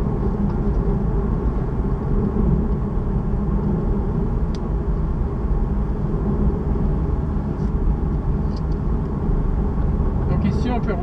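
Steady interior rumble of a car cruising on a road near Lienz, Austria, a continuous low drone with faint clicks and no letup.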